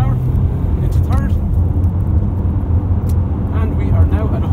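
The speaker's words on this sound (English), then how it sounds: "I'm just going to floor the car into second, and we're just going to go for 100 kilometers an hour into third." A 2016 Honda CR-V SE Plus diesel is floored from second gear toward third, its engine droning loud and close inside the cabin while someone talks over the noise.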